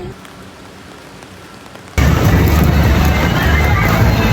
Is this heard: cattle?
no